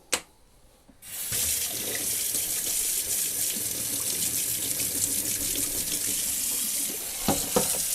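Cold water gushes steadily from a tap into a tray used for film developer, starting after a brief pause and running loud and close throughout.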